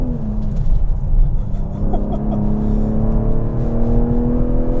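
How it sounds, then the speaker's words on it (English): A modified 500 hp Ford Explorer ST with downpipes, full exhaust and a loud blow-off valve idles and revs. A deep, steady engine rumble rises slightly in pitch and is heard up close with no talking. "Loud blow-off valve."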